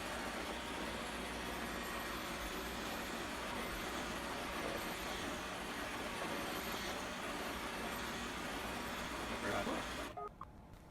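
An iRobot Roomba 615 robot vacuum spot-cleans a small carpet patch, a steady, close whirring hum and brush noise that runs on evenly and then cuts off abruptly near the end.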